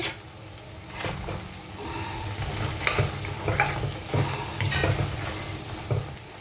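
Fried biuli dal pulis go into simmering jaggery syrup in a pan, with a low bubbling sizzle punctuated by repeated clinks and scrapes of a utensil against the pan, close and moderately quiet.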